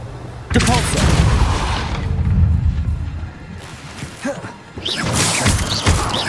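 A Depulso force spell cast in the video game Hogwarts Legacy, heard as loud crashing, booming impacts in quick bursts amid game effects and a voice.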